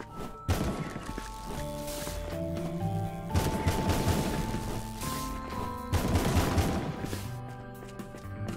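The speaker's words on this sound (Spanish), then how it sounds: "un disparo tocho" Gunfire from a roguelite video game, Summum Aeterna, with heavy booming blasts and crashing impacts in several loud bursts over a dense game soundtrack, no voices.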